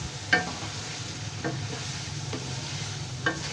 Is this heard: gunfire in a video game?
no